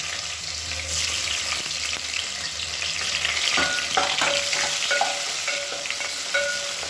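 Cinnamon, cardamom, cloves and onion frying in oil for kuska rice, with a loud, constant close sizzle and a series of scraping, clinking spatula strokes against the pan in the second half.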